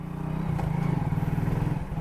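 A 2005 Hero Honda Super Splendor 125cc motorcycle engine idles and runs close by, a steady rhythmic single-cylinder thump with slight mechanical clatter, brief and moderately loud with no talk.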